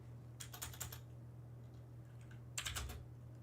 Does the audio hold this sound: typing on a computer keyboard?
yes